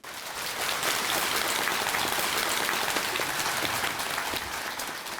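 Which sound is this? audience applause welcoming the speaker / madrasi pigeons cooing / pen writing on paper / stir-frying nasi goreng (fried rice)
audience applause welcoming the speaker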